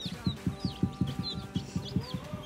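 Newly shipped baby chicks from a mail-order poultry hatchery peep in quick, repeated high chirps over a steady, pulsing stream of lower, softer clucking calls, close by and with no talking.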